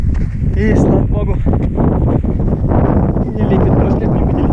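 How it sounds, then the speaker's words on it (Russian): Light wind buffets the microphone on a mountain trail during the CCC ultramarathon race, a steady rumbling gust under a runner's continuous talk. "Да, небольшой ветер, прохладно."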